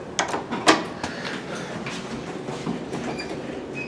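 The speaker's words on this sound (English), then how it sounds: "This is a, re-leveled main elevator." A run-down Otis hydraulic elevator with GAL fixtures at Chauncey Square in Dobbs Ferry, New York, running after re-leveling, giving a steady low rumble with several sharp clunks and rattles early on and faint squeaks later.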